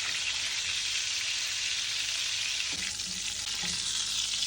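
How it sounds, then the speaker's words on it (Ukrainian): Steady, close hiss of cutlets frying in a pan, with a couple of faint clicks partway through. "Процес жарки."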